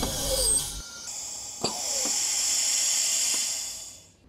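Vacuum former pulling a clear plastic layer down over a mouthguard mold: a steady airy hiss from the suction, close and moderately loud, with a few sharp clicks and a pitch drop as it winds down at the end.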